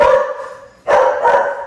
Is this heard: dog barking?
yes